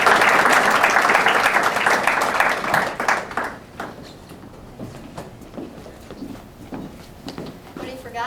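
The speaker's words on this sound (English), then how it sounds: "let's give Dr. Canali a hand of applause" An audience at an anniversary event applauds for a doctor, full clapping for about three seconds that thins into a few scattered claps, with speech following afterward.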